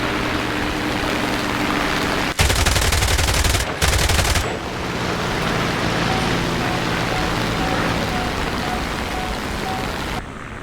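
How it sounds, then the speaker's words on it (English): Aircraft machine guns rattling in War Thunder air combat against an XP-50: a loud sustained burst, a short gap, then a second burst, set against a constant engine drone that carries on after the firing stops. "There is a lot of very mediocre shooting in this clip."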